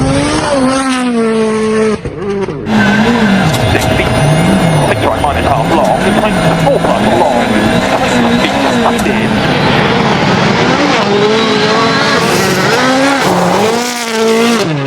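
Rally cars speeding along a race stage, with loud, sustained engine roar that rises and falls through gear changes and bursts of revving, close and continuous throughout, with a voice faintly underneath.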